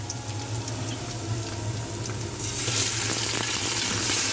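Onions frying in a pan while rice cooks nearby, a steady close sizzle that swells louder and brighter halfway through, with a low constant hum beneath.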